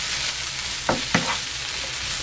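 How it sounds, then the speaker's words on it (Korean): Sliced onions sizzle steadily in a hot pan while being stir-fried, with two quick scraping strokes of a utensil over the constant frying hiss, close by and with no one talking. "양파만 살짝 익을 동안만 볶아주겠습니다"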